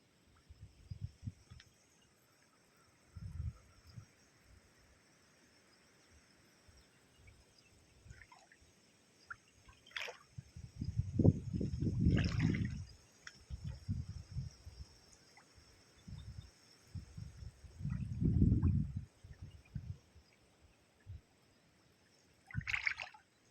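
Floodwater from heavy rain seeps into waterlogged farm soil, giving soft, quiet bubbling and gurgling trickles that come in scattered bursts, a few louder clusters rising among long near-silent stretches, with no voices.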